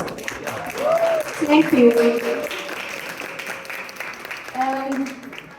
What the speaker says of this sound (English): Everyone, please give Michaela a round of applause.